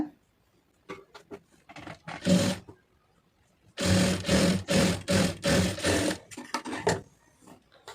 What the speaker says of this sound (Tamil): இப்போ இதை மடக்கி ஒரு படிவான தையல் போட்டுருங்க